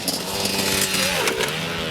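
A Husqvarna CR150 two-stroke dirt bike engine revving hard on the pipe, a loud, buzzy, sustained wail that rises and falls slightly as the rider shifts.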